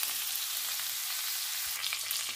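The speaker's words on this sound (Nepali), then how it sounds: "अब मैले चाहिँ मज्जाले भुट्ने छु" Pork coated in besan (gram flour) fries in a hot pan, giving a loud, steady, close sizzle with a faint stirring bump near the end and no talk.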